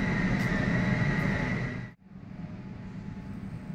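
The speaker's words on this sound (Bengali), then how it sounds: "এখন যেমন এই ট্রেনটি আসছে এটি যাবে হচ্ছে ধর্মতলার দিকে" A Kolkata Metro train on the underwater Howrah Maidan line arriving at an underground station, a loud steady rumble with a brief dip near the middle before the roar continues.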